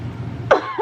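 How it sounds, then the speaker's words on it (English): A single sharp cough bursts out close by after a moment of quiet breathing, followed by a brief throaty catch. "I feel like I have to cough again."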